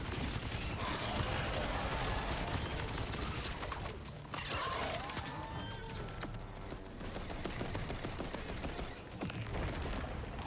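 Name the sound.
gunfire in video game Borderlands 4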